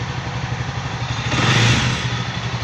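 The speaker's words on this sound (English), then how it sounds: "I'm revving the engine now." Idling Jawa Classic motorcycle engine heard up close gets a single quick rev partway through, swelling briefly louder and higher before settling back to its even, clattery idle.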